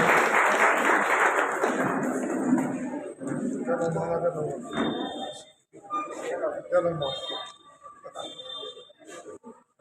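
A crowd at a Dr. Vitthalrao Vikhe Patil Foundation event bursts into applause for a few seconds, fairly loud, then fades as a voice begins talking over the last scattered claps.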